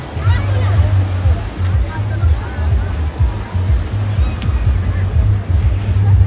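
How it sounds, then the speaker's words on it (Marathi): Rough, churning sea surf on a Goa beach in rainy weather roars continuously with heavy rumbling waves and strong wind buffeting the microphone, loud and close throughout. "पाणी बघा पूर्ण खवळलेलं आहे"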